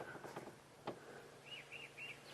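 A Kurrichane thrush calls during a sunrise safari drive, three faint, short whistled phrases repeated evenly at a distance, with a few soft clicks and rustles earlier.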